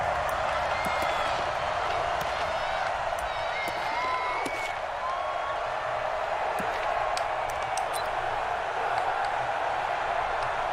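Stadium crowd noise in a Madden NFL football video game, a steady broad roar of cheering with scattered sharp claps and whoops, continuous throughout under a faint tonal hum.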